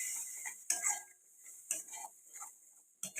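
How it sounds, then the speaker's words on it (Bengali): Spice paste with green chilli paste is slowly sautéed on low heat in a pan for a Bengali rui fish mustard-poppy seed dish. A soft steady sizzle runs under scattered spatula scrapes and light metallic clinks, with no talk. "এই মশলাটা কিন্তু আমি খুব অল্প অল্প আঁচে কষিয়ে নেব।"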